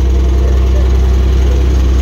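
A 1954 GAZ M-20 Pobeda fitted with a 2.9-litre Ford engine runs with a steady low idle, a continuous loud rumble throughout with no break.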